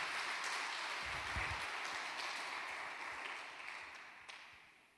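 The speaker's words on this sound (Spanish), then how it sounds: "Alguien que aplauda fuerte al Señor y diga amén." A church congregation applauds during a Spanish-language sermon, a soft, distant wash of steady clapping that slowly fades, with a few low thumps near the start.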